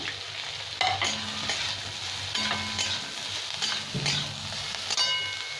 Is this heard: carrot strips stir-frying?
yes